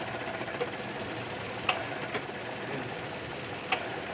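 A car engine idles with a steady hum while sharp, irregular ticks from around the throttle body snap through it, close to the engine.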